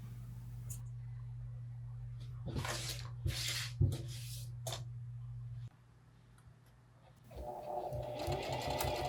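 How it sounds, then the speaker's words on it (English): A sewing machine hums steadily as it stitches, then stops briefly before another burst of mechanical whirring starts up, with a few clicks and handling noises. "I'm back on the sewing machine"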